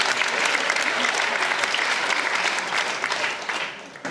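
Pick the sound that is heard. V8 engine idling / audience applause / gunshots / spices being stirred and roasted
audience applause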